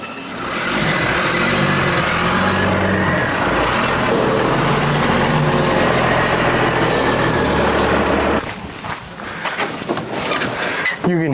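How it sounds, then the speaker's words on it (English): A 1940 Ford hot rod truck engine runs loud and close, blowing out power steering fluid, with a steady rumbling drone that drops off sharply near the end into rougher, sputtering noise. "You can hear it freaking blowing power steering fluid out of it."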